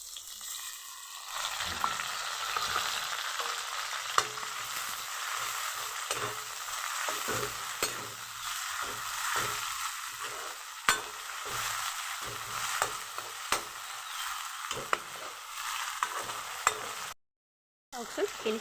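An egg dish sizzles and fries in a pan while being stirred, with a dense crackling hiss and irregular scraping taps throughout, briefly cutting out near the end.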